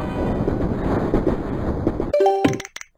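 A train rumbles past with a steady roar, then fades into a few metallic clanks and ringing dings before cutting to quiet.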